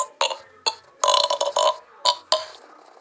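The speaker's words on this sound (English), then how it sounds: "I'm going to burp really loud." A cartoon character lets out a loud, drawn-out burp, heard as a series of sharp, gurgling bursts with short gaps between them, close and alone with no talk.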